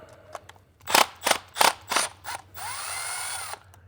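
Ratchet wrench working the E8 bolts loose on the oil filter housing of a 2012-2018 Jeep Wrangler JK: five quick, sharp clicking bursts in a row, then a longer steady whir of spinning out, up close with no talking.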